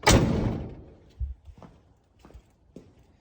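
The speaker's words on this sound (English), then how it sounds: "if I close this door to turn off those interior lights" A classic car's door swings shut with a solid thud, followed by a few faint knocks and clicks in a quiet garage.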